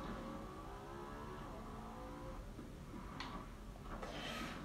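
A car drives in the video game Need for Speed Payback, with a continuous engine drone holding steady throughout and a couple of brief higher bursts near the end, no talking.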